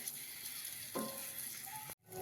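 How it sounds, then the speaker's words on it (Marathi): A steady, loud sizzle of long capsicum peppers sautéing in a hot pan, cutting off abruptly near the end. "अधूनमधून झाकण काढायचं आणि परतून घ्यायचं"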